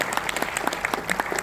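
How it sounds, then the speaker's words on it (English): Applause from an audience at a film festival talk, brisk individual claps audible within a steady patter of many hands, fairly near and continuous. "let's give him a round of applause."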